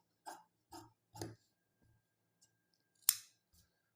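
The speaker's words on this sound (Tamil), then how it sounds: "இப்போ இந்த ஸ்லீவ் கட் பண்ணியாச்சு." Scissors snip through blouse sleeve fabric: three crisp, close cuts in quick succession, a pause, then one sharper, louder snip and a faint final click, with no talking.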